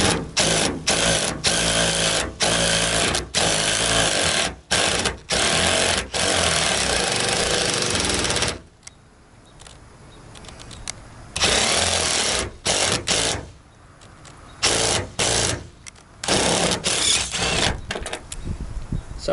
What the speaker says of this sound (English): I'm gonna have to drill through it because it's in my way